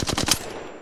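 A Flatline rifle fires in a video game: a quick automatic burst of about four sharp, loud shots, then a fading tail.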